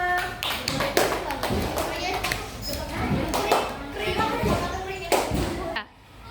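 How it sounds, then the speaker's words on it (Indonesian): Fourth-grade schoolchildren clap rhythmically as a group in quick patterned bursts in a classroom, with children's voices mixed in, ending abruptly. "Beri tepuk tangan sama 5."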